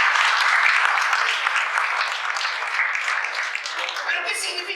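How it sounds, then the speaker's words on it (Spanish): A church congregation at a sermon gives a sustained round of applause, a bright, even wash of clapping that holds steady and slowly thins out over a few seconds. "Un aplauso para la teatrera."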